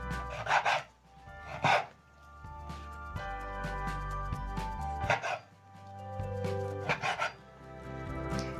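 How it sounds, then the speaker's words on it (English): A very sharp knife slicing beef against the grain into large cubes on a cutting board: a series of close, crisp cutting strokes and scrapes with short pauses between them, no talking. "I'm going to use a very sharp knife and slice my meat into very large cubes"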